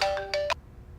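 Phone ringtone from an incoming call in a Hindi-dubbed action film scene, three quick bright chiming tones in a rising pattern, loud and close, then cutting off abruptly.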